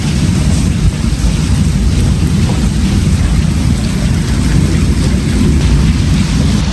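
Heavy rain pours down outside a home on a dark, stormy day, a dense, unbroken roar at loud, even intensity throughout with no distinct thunderclap standing out.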